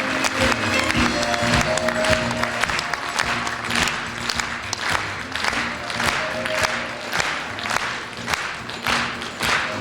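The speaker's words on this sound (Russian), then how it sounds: "Бурные аплодисменты, пожалуйста." An audience applauds after a Tatar dance performance, vigorous hand clapping with some thumps, steady and close over music for about ten seconds.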